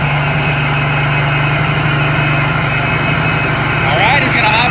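Husqvarna concrete saw with its engine running steadily at close range, a loud continuous mid-low drone with a faint rattle near the end.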